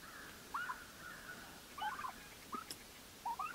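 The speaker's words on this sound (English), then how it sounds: "you will notice that we only have 5 turkeys here" Turkeys, mostly toms with a hen, gobble in short bursts in a homestead coop, four or five quick warbling calls spaced over a few seconds against quiet background.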